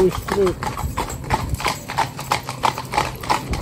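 A four-in-hand team of horses clip-clops along a road with the hooves striking in a steady, close rhythm, while people talk over the top.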